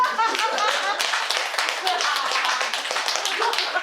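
Hands clap steadily through a dharma talk at a Wednesday Buddhist service, a dense run of claps from a gathered congregation with voices mixed in beneath.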